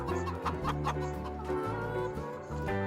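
Chickens cluck inside a pen in the Farming Simulator 22 video game, a busy flock of hundreds of birds whose steady, layered clucking blends with a continuous tonal game soundtrack.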